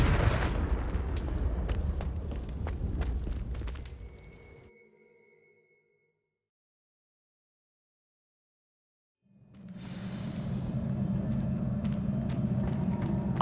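Confringo fire spell blasts in Hogwarts Legacy: dense booming, crackling bursts for about four seconds that decay into total silence, then a steady low rumbling roar returns.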